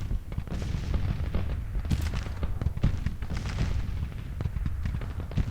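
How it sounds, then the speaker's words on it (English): Artillery fire in the Grand Tactician: The Civil War strategy game, with dense, continuous booms and cracks of cannon and gunfire overlapping in rapid, irregular succession, some near and sharp, others distant and rumbling. "starting to shell our positions. Let's hope our counter battery fire can silence them soon."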